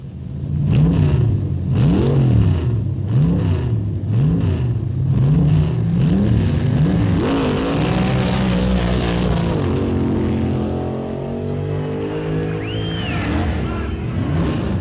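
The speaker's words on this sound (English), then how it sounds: "Bruce Larson, turns in impressive speeds with his fierce new funny car that becomes an immediate favorite with the crowd" A 1968 funny car drag racer at the NHRA Nationals, its engine revving in rising and falling bursts, then settling into a long steady roar as it moves off, loud and close with no talk over it.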